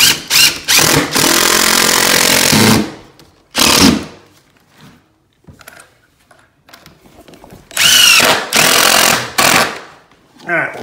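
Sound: power drill driving 1¼ inch decking screws into floor

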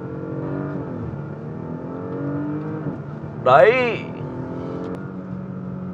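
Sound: Porsche Panamera engine revving in Sport Plus launch

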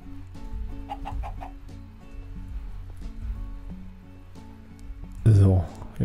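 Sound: chicken clucking in the video game Minecraft

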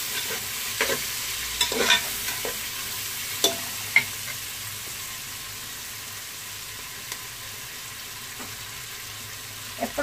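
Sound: frying vegetables in a pan for biryani

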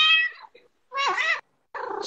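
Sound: cat meowing during livestream

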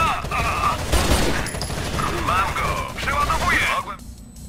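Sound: gunfire in a video game

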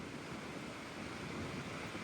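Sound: sea waves breaking during storm

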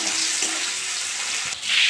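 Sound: onion frying in oil

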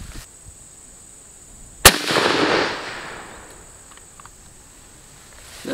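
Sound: SKS rifle shot fired into a tire

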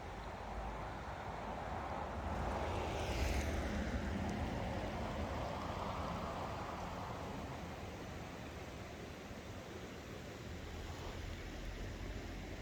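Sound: stream water flowing under ice

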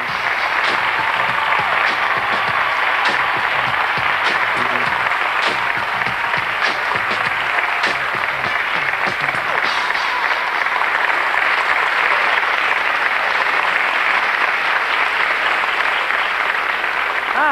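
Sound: audience applause at model contest

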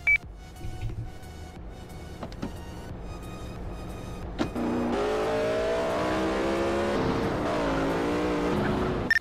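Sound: car engine revving in a video game (GTA MTA RP)

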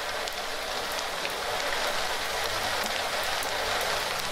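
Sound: heavy rain and hail falling outdoors

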